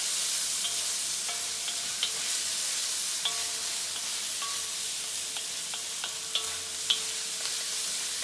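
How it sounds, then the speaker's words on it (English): Garlic sizzling steadily in a hot pan while being stirred, with a constant frying hiss and occasional sharp clicks and scrapes of a utensil against the pan, heard up close with no talking. "All right, so we're doing the garlic in there like that."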